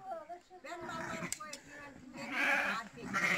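Sheep on a village farm bleat several times, close and wavering, with a voice speaking in the background.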